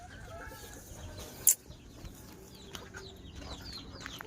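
Native chickens clucking softly around a backyard coop where hens are laying, with scattered chirps and a brief sharp rustle or flap partway through, all fairly faint and without talk.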